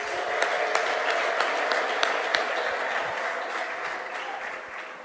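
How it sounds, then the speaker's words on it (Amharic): A church audience breaks into sustained applause, a dense wash of clapping with a few sharper claps standing out, which gradually thins toward the end. "እስቲ ለዚህ ጌታ አለልታ ጭብጨባ።"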